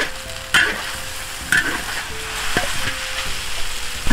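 Onion stir-fries in a hot wok with garlic, soy sauce and oyster sauce, giving a continuous close sizzle broken by sharp spatula scrapes and clanks roughly once a second.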